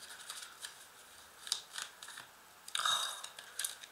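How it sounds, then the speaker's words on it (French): Small tarot cards are handled and put back in order, with soft, quiet flicks and light shuffles in a few brief bursts, one slightly louder cluster near the end. "il faut juste que je remette mes petites cartes à l'endroit"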